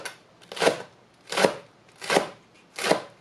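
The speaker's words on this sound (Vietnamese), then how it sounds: "Rồi bây giờ mình đi cắt hành lá" Green onions chopped finely on a cutting board with a knife: four crisp, evenly spaced chops, close and clear with no talking.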